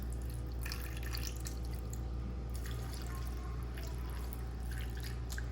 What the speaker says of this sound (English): We're gonna pour the chicken broth into the pan.